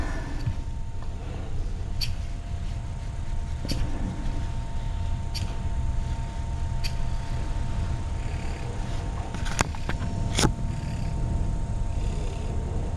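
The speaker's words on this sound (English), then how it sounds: "So much purring." A cat purrs steadily up close, a soft low continuous rumble, with a few faint clicks and rustles scattered over it.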